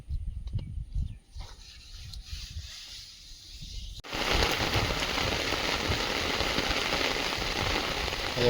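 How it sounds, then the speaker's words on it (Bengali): Steady, dense rain hiss that starts suddenly partway through and continues loudly to the end, after a quieter stretch of light patter and low rumble. "মুসলধারে বৃষ্টি হচ্ছে কখনো বৃষ্টি হচ্ছে কখনো বন্ধ যাচ্ছে"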